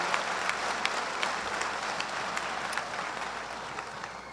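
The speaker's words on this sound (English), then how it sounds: "Let's have one round of applause for our Mistress of Ceremonies, Chelsea Ogindo" A graduation audience gives a round of applause, steady, moderately loud clapping from many hands in a large room, with occasional sharper individual claps standing out and no speech.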